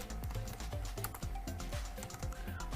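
Rapid clicking keystrokes on a computer keyboard while coding a Pong game in Python with pygame, steady and close with uneven rhythm and no talking.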